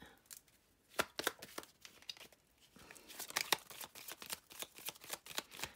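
Lenormand oracle cards being shuffled by hand, a rapid run of crisp riffling flutters and soft slaps, close and fairly quiet, with no talking.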